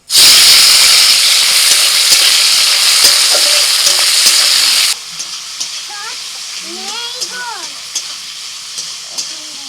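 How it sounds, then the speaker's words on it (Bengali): Prawns fry in hot oil in a kadai, starting with a loud, dense sizzle that drops after about five seconds to a quieter, steady bubbling with light pops. "চিংড়ি মাছ ভেজে নেব।"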